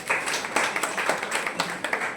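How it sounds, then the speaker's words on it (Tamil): Members at an association's Diwali festival cultural program give a round of hand clapping, a short burst of brisk, uneven claps at moderate distance, with little else around it. "ஒரு பெரிய கைத்தட்டு கொடுத்துடலாம்"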